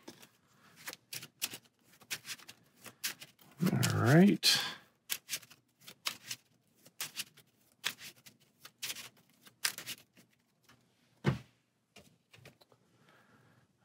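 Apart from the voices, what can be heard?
shuffling playing cards in Marvel Champions card game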